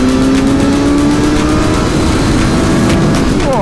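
A 2021 Suzuki GSX-S 1000 motorcycle engine revs hard and loud during a power wheelie, a steady close roar with rising pitch through the acceleration.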